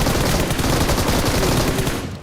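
Dense, continuous bursts of video game gunfire from a battle-royale style match, loud and sustained rapid shots with no talk over them, fading slightly at the end.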